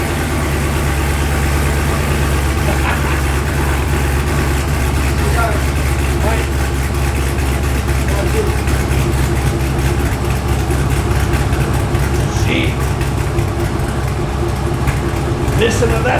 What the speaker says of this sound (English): But you can't put the idle of a V8 with a big cam in it.